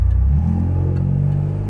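A 1995 Pontiac Firebird with the General Motors 3.8 liter engine and an aftermarket no-name exhaust revs with a loud, steady low rumble that eases off slightly toward the end.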